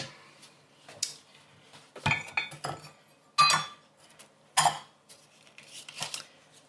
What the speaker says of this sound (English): I'll just chat away as I'm doing my lemon zest